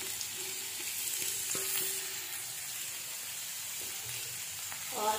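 Chopped onion and green chilies frying in a pan for a masala omelette, a steady close hiss of sizzling oil with faint stirring scrapes throughout, no talk.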